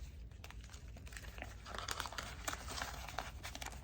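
Paper cash being stuffed into a paper envelope, with faint close crinkling and rustling of paper in quick, irregular bursts against a quiet background.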